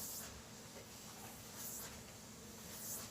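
A low, steady hiss of steam rises from a steamer as fabric pieces are steamed one by one, faint and continuous with slight swells of spray.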